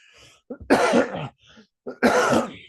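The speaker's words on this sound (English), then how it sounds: "Apologies for the cough there." Two harsh coughing bursts, close and loud, each preceded by a short sharp intake, with brief quiet gaps between them.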